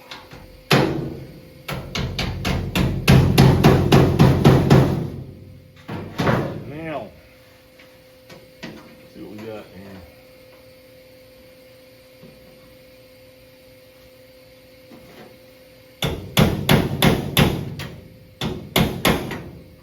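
Hammer blows on a 1964 Chevy II quarter panel backed against an improvised anvil: two clusters of rapid, loud metallic strikes separated by quieter shop noise and brief talk.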